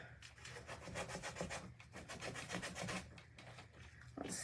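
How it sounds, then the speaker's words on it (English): Hand sanding on wood makes a fast, rhythmic rasping scrape, close and continuous, with no voices. "I'm just going to sand little sections"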